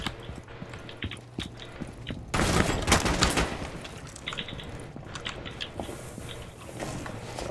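Gunfire in a Rainbow Six Siege match: scattered single shots and short bursts, with a louder, denser volley in the middle and sharp clicks and clatter around it.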